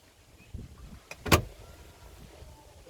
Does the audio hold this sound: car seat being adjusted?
yes